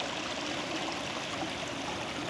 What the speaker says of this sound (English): you guys can see the water flowing